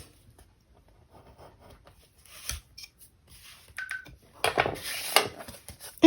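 Scissors snip through paper and decorative scrap material on a handmade baby album, giving a few quiet scattered cuts followed by a louder cluster of close snips.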